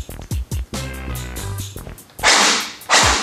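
An SR16 airsoft gun test-fired after adjusting its motor height against the bevel gear: sharp mechanical clicks, a short buzzing whine, then two loud hissing bursts of fire, all close and without talk.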